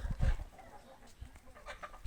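Roosters and turkeys on a farm give faint, scattered clucks and short calls, heard a little way off with low background noise.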